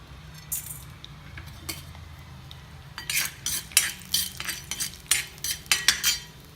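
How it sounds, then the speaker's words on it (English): Dry chana dal lentils are tipped into a frying pan and stirred, giving a run of sharp metallic clinks and scrapes of a spoon against the pan that grow busier and louder toward the end, with no talking. "So we are adding the chana dal now first."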